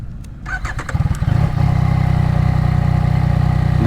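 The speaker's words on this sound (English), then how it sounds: "We're on the MT-09 here. Let's see, let's turn her on." A Yamaha MT-09 motorcycle is started up close: a short burst of starter cranking catches into a loud, steady idle that throbs on to the end.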